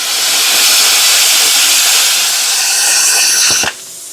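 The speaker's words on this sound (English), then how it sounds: "we're gonna cut us a little piece out of this with the plasma cutter" A plasma cutter slicing a piece of metal for a box blade quick hitch mod gives a loud, steady, close hiss for about three and a half seconds, then cuts off abruptly, leaving a quieter background hum.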